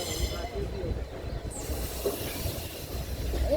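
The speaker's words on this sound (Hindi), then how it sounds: "हमारी ट्रेन लखनऊ के माल एवेन्यू से गुजर रही है।" A train rolls along the Lucknow–Barabanki railway line through Lucknow's Mall Avenue area, a continuous low rumble with hiss and a faint high squeal, fairly quiet and without clear rhythm.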